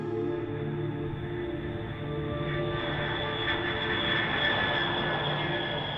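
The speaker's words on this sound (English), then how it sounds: "Once in the air, this huge 8-engine bomber dominates the sky." A huge eight-engine bomber flies overhead with a steady, droning jet roar, sustained and even throughout, heard at a distance without talk.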